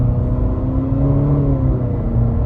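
A 2022 Infiniti QX55 four-cylinder engine accelerates from inside the cabin, a loud, steady drone with pitch climbing and easing smoothly over a couple of seconds.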